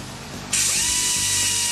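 An angle grinder smooths burrs off a freshly cut hole in a Jeep TJ's body for a TeraFlex bump-stop install. It starts abruptly after a quieter moment and holds a loud, steady, hissing whine.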